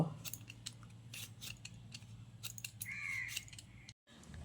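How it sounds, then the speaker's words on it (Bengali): A handheld vegetable peeler scrapes the skin off raw potatoes in quick, repeated strokes, each a short crisp rasp close by, followed by a brief pause. "এইরকম একটা পিলার সাহায্যে আলুর খোসাগুলোকে ছাড়িয়ে নিচ্ছি।"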